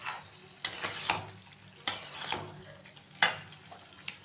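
Fried potatoes and egg are stirred in a pan over a lowered flame, soft sizzling under a few sharp scraping strokes of a utensil spaced about a second apart, close and quiet.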